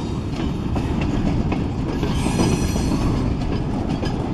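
Long freight train rolling across an early-1900s mostly wooden trestle bridge over the Menominee River, with a continuous loud rumble, rhythmic wheel clatter and faint high squeals.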